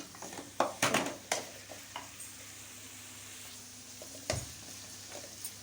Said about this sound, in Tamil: பொரிஞ்சிருச்சு, பட் இன்னும் நல்லா பொரியும்